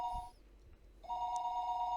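A telephone rings on and off inside a video game, left unanswered; a steady electronic ring sounds at close range, stops briefly, then starts again with no voices over it.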